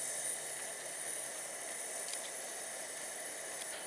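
Chopped daylily blossoms sautéing in a pan, giving a steady broad sizzling hiss at moderate volume throughout, with a few faint crackles and no talk.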